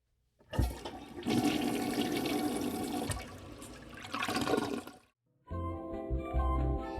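A household toilet in a bathroom flushes with a loud rushing surge of water that fades, followed after a brief pause by the tank refilling with a steady hissing trickle.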